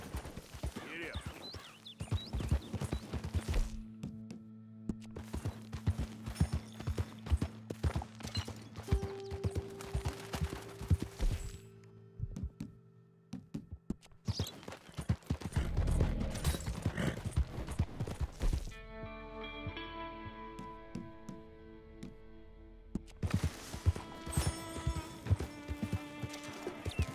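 Horse hooves clip-clop at a steady rhythm in Red Dead Redemption 2, close and fairly loud over game music, with a brief whinny and someone speaking at points.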